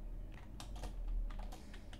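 Fingers tap on a computer keyboard, a quick, uneven run of soft, close key clicks over a faint background hum.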